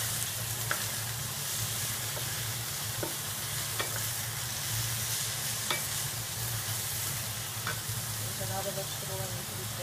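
Vegetables and torn noodle dough with shrimp stir-fry in a hot wok, giving a steady close sizzle broken by scraping spatula strokes and clacks against the pan, with no talk.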